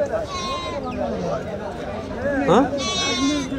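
Sheep bleat nearby at the Tuesday sheep market in Kadiri, a couple of wavering calls standing out, with people talking over a lively market background.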